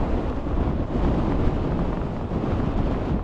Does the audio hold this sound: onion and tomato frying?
no